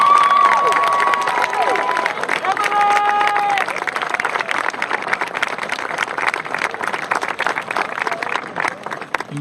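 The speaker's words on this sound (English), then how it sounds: "Please give them a round of applause." A crowd at a 2013 class graduation ceremony applauds the graduates with sustained clapping, cheering and shouts, loud and dense throughout, with voices mixed in and tapering slightly near the end.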